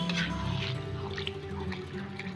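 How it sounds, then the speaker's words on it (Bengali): Water poured into lentil dal in a cooking pot in a village kitchen, making a short, close liquid splash and trickle against the simmering food. "জল দিয়ে দেবো"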